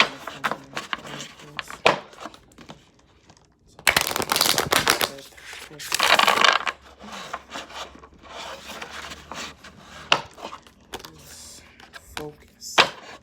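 Oracle cards shuffled and pulled from a Divine Feminine deck: a close, rubbing shuffle with scattered card taps, then two loud riffling bursts in the middle and softer handling afterward.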